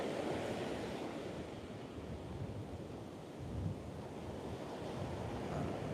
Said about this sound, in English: It is super duper windy.